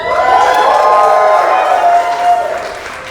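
A comedy club audience in Las Vegas cheers and shouts loudly in a dense burst of whoops and yells with some clapping, fading slightly toward the end.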